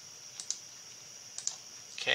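Calculator keys pressed in a classroom, a few light clicks in two quick pairs, faint against a steady hum, before a voice begins.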